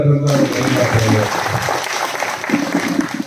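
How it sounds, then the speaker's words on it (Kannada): A crowd at a village political party joining event applauds loudly, a sustained wash of clapping mixed with voices speaking and calling out over it. "ಎಲ್ಲರಿಗೂ ಒಂದು ಜೋರಾಗಿ ಚಪ್ಪಾಳೆ"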